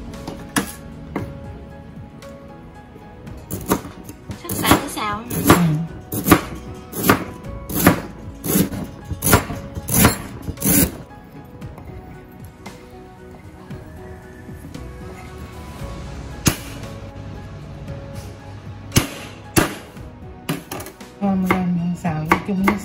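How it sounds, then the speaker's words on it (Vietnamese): A knife chops lemongrass on a board in a home kitchen, giving fast bursts of sharp, close knocks with short pauses between runs, while faint voices talk in the background. "Sắc xả một chút xem."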